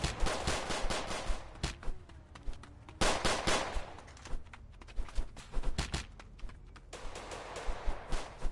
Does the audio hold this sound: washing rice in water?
no